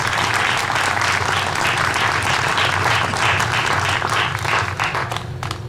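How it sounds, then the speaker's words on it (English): Sustained audience applause at an outdoor community band concert in the park in Faribault, steady dense clapping throughout at fairly close range, thinning slightly near the end. "give her a round of applause anyway."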